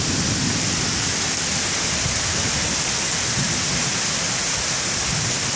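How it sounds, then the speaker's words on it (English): Heavy rain pours down in a thunderstorm in the western suburbs of Chicago, a dense, loud, unbroken hiss of rain pounding surfaces that holds steady throughout. "The rain is coming down like crazy in sheets and buckets"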